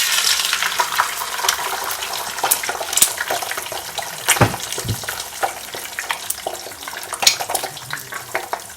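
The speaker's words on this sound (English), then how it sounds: "I'm just gonna start off by frying my eggs." Eggs fry in olive oil in a pot on a stovetop, giving a steady, close crackling sizzle throughout with sharper pops and spatters, while a voice speaks briefly.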